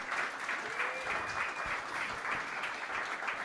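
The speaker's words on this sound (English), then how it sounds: "Huge round of applause for every single one." Applause for startup pitches at an investment summit fills the room, a dense, continuous wash of many hands clapping at steady volume, heard from some distance.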